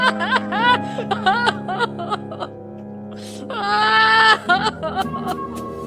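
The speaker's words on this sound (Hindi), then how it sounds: "फोन के बैकग्राउंड में भाभी के कराहने की दिल दहला देने वाली आवाज आ रही थी।" A woman moans and whimpers in pain in wavering, rising and falling cries that turn into a longer strained wail near the end, close and loud with no other sounds.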